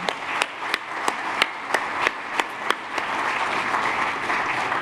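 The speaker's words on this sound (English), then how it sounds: "Let's have another round of applause for them." A crowd applauds at the Worlds of Flavor 2021 food event in Washington DC, with sustained clapping and a few sharp, prominent claps standing out near the start.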